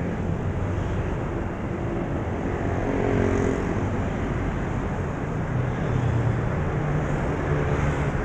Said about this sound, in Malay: Ni macam banyak kereta nak cross.